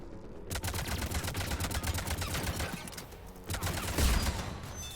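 Rapid, sustained turret fire from Mass Effect 3 rattles on in a dense, loud burst of shots, pausing briefly before resuming with a heavier impact near the end.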